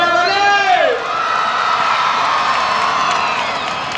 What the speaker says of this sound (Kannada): ಒಂದು ಜೋರಾದ ಸೌಂಡ್ ಮೇಲೆ ಚಪ್ಪಾಳೆ.